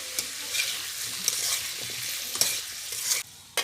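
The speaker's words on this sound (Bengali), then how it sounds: "দিয়ে সুন্দর করে নাড়িয়ে নেব আবার" Papaya and potato frying in a pan with turmeric and salt, stirred with a utensil: bright sizzling hiss broken by repeated scraping strokes and light clinks, close and continuous with no voices.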